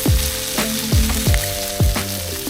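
Rib eye steak sears on a Blackstone griddle, giving a steady close sizzle broken by a few sharp bursts of spattering at regular intervals, with no talk.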